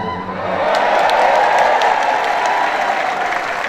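At a Christmas celebration in Bandung, a large audience claps and cheers steadily for a few seconds, a dense wash of applause with scattered louder claps.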